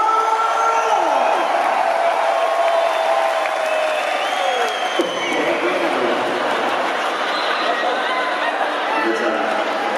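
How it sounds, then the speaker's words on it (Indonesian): A crowd applauds and cheers for Ki Ageng Slamet, a popular kendang drummer, at a gathering, a continuous broad wash of clapping and voices filling the whole stretch. "Kasih dulu tepuk tangan untuk Ki Ageng Slamet."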